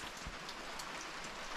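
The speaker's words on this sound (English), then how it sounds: "It's been raining steadily all night." Steady rain falls outside a trail shelter on a night of thru-hiking the Appalachian Trail, a dense, even hiss of drops drumming on surfaces that continues unbroken throughout with no talking.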